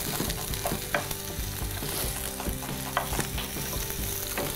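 Onions and garlic browning quickly in a pan over low heat for a vegan carbonara: a dense, constant sizzle with frequent stirring scrapes and a few sharper clicks, over background music.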